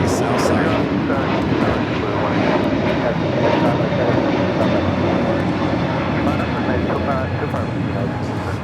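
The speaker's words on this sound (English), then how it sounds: "It's a 12-year-old 777 freighter flying directly above us." A 12-year-old Boeing 777 freighter passes directly overhead at LAX, its jet engines making a loud, sustained roar that fills the whole clip, with a voice talking over it.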